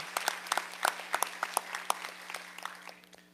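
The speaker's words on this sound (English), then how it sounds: "so round of applause for Robin Nichols, Bossier High School." A small group applauds at a school board meeting, with scattered individual claps standing out and the clapping gradually thinning toward the end.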